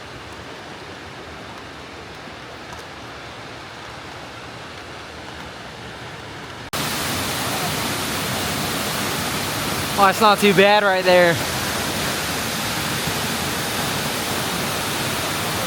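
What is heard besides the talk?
waterfall at Hanging Lake, Glenwood Springs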